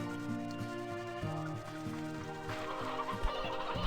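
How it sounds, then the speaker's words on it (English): Chickens cluck in the farming game Slime Rancher 2, a steady stream of in-game fowl calls mixed into a continuous bed of tonal game music. "I've got so many chickens"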